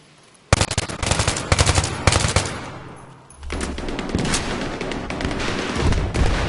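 Bipod-mounted machine gun in Battlefield 3 firing several rapid, loud bursts, with brief pauses between them, then a longer sustained stretch of fire.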